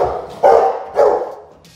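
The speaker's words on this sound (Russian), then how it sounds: "Ротвейлер." A Rottweiler gives two deep, loud barks about half a second apart, close by, with a fainter sound trailing off at the end.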